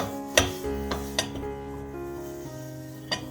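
A spoon stirs softened dates in a pan on the stove for flaxseed laddu, making a few light scraping taps against the metal over a soft steady background, close and fairly quiet.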